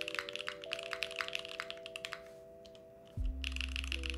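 A custom mechanical keyboard is typed on at a quick, even pace, each keystroke a crisp click close up, with a steady low hum underneath before the typing briefly pauses and then resumes.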